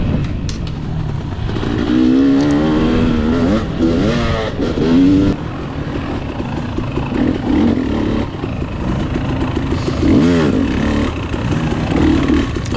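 Dirt bike engines rev and rise in pitch as riders pass during a dusty, tight-woods hare scramble race, the bikes near and loud and revving in repeated bursts, with no talking.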